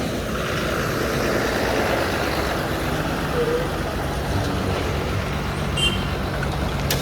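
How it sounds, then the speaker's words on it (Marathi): A red state transport bus arrives at a stop on the Mumbai–Goa highway near Chiplun with a steady, loud diesel rumble and broad road roar that fills the whole stretch. A faint brief hiss comes near the end. "सो आली फायनली लालपरी आपली."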